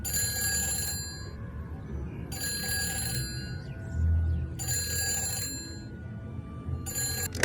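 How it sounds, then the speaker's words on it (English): Telephone in the Nancy Drew: The Phantom of Venice video game rings in four evenly spaced electronic bursts, each lasting about a second, loud and close over a low ambient hum. "I need to answer the phone."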